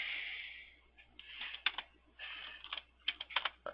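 Typing on a computer keyboard, quick irregular clusters of close key clicks with short gaps, heard alone over a low steady hum.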